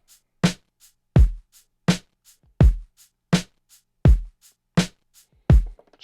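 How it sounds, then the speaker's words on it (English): A drum loop for a Latin-record sampling beat hits in a steady rhythm, with punchy kicks and snappy hits alternating with softer ghost notes, clean and up close with no other sounds. "So I loaded up this drum loop right here. So it sounds like this."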